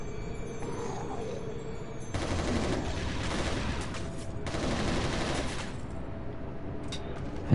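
Gunfire in the video game Resistance Retribution, with sustained dense bursts of shooting in two heavy stretches over a steady game background, loud and close.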